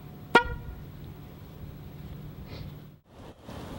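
A Loud Bicycle car-horn-style bicycle horn gives one sharp, loud honk near the start, then fades into quiet outdoor background noise.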